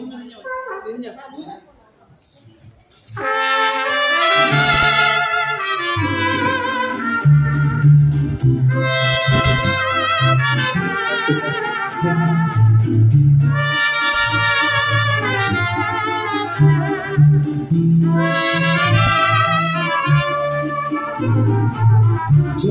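A youth mariachi band from Colombia plays a lively song at a quinceañera, with trumpets and violins over strummed guitars and a bouncing bass, after a brief quiet start.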